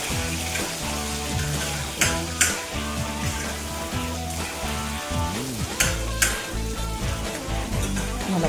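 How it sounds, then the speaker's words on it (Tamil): Onions and mustard seeds sautéing in hot oil, giving a continuous loud sizzle under a bed of music, with a few sharper clinks of stirring, and no talking. "நல்லா வதக்கிட்டுருக்கணும்."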